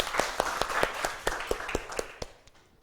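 A small group applauding after a class lesson, about a dozen distinct claps in a quick, slightly uneven rhythm that fades out over a few seconds, close by with no talk.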